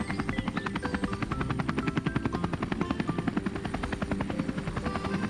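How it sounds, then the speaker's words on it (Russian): A cartoon helicopter flies past, its rotor chopping in a steady rapid rhythm that stays loud and close throughout, with no talking. "Смотрите, вертолет летит."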